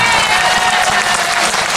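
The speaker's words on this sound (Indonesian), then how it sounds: "Tepuk tangannya kurang keras itu." An audience at an Islamic boarding school gathering claps loudly and densely in a continuous burst of applause.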